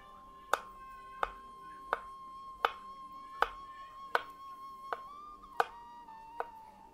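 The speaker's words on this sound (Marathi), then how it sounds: "आता चाय आपण कापून घेऊ बारीक बारीक तुकडे." Knife chopping a peeled chai tuber into small pieces on a board, nine sharp, evenly spaced chops about one per second, close and crisp with no talk.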